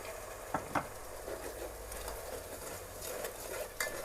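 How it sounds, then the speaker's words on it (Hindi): Masala with tomato paste frying in oil for masala chicken, a soft, quiet sizzle broken by a few sharp spoon clinks and stirring scrapes. "मसाला हमारा अच्छे से भुन रहा है, हमने ऑयल भी छोड़ दिया है"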